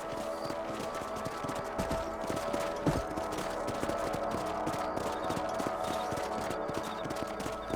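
Horse hooves clip-clop steadily at a riding pace in the Red Dead Redemption video game, a continuous rhythmic trot close by with occasional heavier thuds, no talking.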